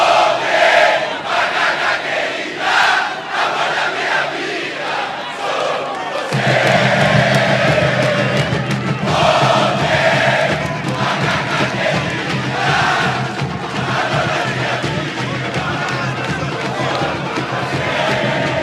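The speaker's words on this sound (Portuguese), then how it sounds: "Vamos ouvir o frisson aqui da torcida da Macaca." Ponte Preta football supporters cheering and chanting in a stadium during a Paulistão match, a loud sustained crowd roar that swells partway through, with a commentator's voice over it.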